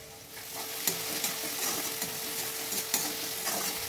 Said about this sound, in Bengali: পেঁয়াজটা একটু ভাজা ভাজা করে নেবো